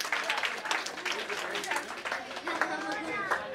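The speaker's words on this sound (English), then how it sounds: "Give her a big round of applause." Audience at a CA Day celebration applauds a guest, with scattered clapping and lively chatter mixed in, moderately loud and close.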